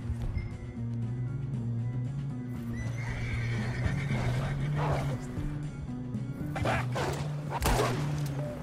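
Horse neighing and whinnying with clip-clop hooves in Red Dead Redemption 2, set over a steady game soundscape with music-like drones; a loud whinny bursts out near the end among scattered hoofbeats.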